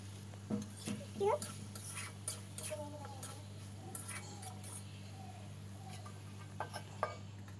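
Pieces of elephant foot yam and local chicken are stirred in a wok with a spatula, giving scraping and clinking strokes plus a soft sizzle over a steady low hum.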